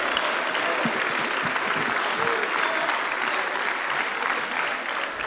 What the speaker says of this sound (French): Tonnerre d'applaudissements pour Jean Castex au Parlement français.